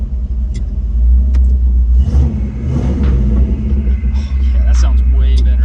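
A Honda Ridgeline fitted with a Spintech exhaust rumbles deep and loud close by and swells in a couple of revs, with voices talking over it and occasional light clicks.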